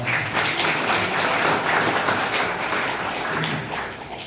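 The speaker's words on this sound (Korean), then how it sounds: "나오실 때 큰 박수 부탁드립니다" Audience applause at a Hangeul Society award ceremony, a dense, steady wash of many hands clapping for an honoree coming forward. It holds level and tapers slightly at the end.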